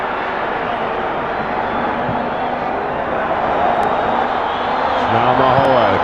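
A football crowd of Orlando Pirates and Bloemfontein Celtic fans at a Telkom Knockout Cup match keeps up a steady roar of cheering, swelling slightly toward the end beneath continuous commentary.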